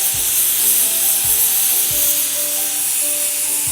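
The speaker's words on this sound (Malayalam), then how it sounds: "ഇപ്പോൾ നമ്മുടെ കപ്പയൊന്ന് വെന്തോട്ടെ." Tapioca (kappa) boils in a pot for a Kerala-style dish, giving a loud, steady hiss of steam and bubbling water punctuated by soft, periodic low thumps.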